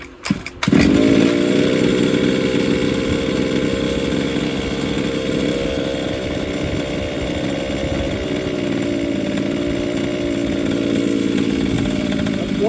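A 30cc Fuelie gas engine with a Walbro carburetor on a 1/5 scale RC model starts up and then runs steadily for many seconds. Its buzzy, close, loud idle has a slightly uneven, choppy pulse.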